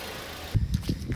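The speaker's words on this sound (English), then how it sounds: "There you go. The car's running." A car engine idles shortly after repair work, with a low, uneven rumble that starts up midway and pulses softly in the background, fairly faint.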